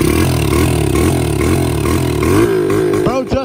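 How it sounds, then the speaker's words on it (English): A motorbike engine runs loud and close after starting, pulsing through a steady, throbbing idle with some revving, while a person talks over it. "Bro just started the bike"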